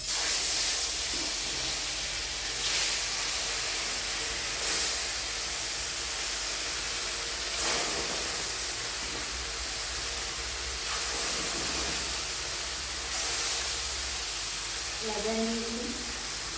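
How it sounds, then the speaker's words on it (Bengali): Pieces of fresh pond fish sizzle in hot oil, a steady loud hiss that swells now and then as the pieces are moved, with a brief murmur of voice near the end. "তেলটা আমার গরম হয়ে গেছে। এবার আমি মাছগুলোকে এক এক করে কষে নেব।"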